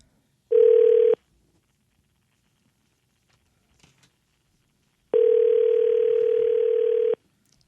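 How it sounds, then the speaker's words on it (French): A telephone dial tone sounds loud and close, a steady pure tone lasting about half a second, then silence with faint clicks, then the same tone returns and holds for two seconds. "OK, Luc compose."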